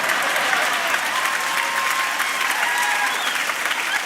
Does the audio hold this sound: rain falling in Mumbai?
no